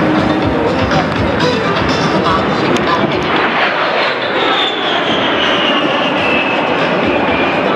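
A Gulfstream-based rescue aircraft at the Miami Beach air show roars loudly and steadily overhead, a broad engine rumble with a high whine that slowly falls in pitch as it passes, with crowd noise faintly beneath.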